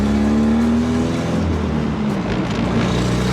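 A Nissan 240SX with an exhaust leak and rattling body drones close by, its engine note a steady, loud, buzzy hum that holds constant through the moment.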